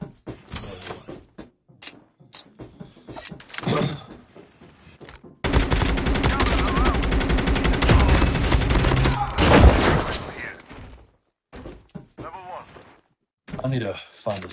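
Assault rifle fire in the mobile shooter game Call of Duty Mobile, a loud sustained burst of rapid automatic shots lasting several seconds, with people talking before and after it.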